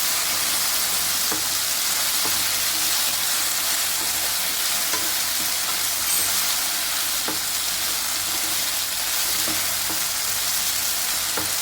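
Potatoes frying in a covered pan, a loud continuous sizzle with occasional faint scrapes of stirring.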